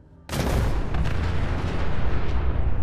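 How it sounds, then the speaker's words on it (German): A car explodes in the video game Fallout 4 with a sudden loud boom, followed by a sustained roaring, crackling rumble that stays heavy to the end. "Jetzt muss ich warten, bis da hinten diese Scheißkarre explodiert ist."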